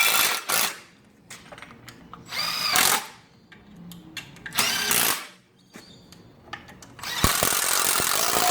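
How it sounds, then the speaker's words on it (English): Several bursts from a big power driver running bolts into an engine stand, each whirring run rising in pitch and stopping, with quiet workshop clatter between and a brief hissing rattle at the end. "Now just drive them in with our big driver."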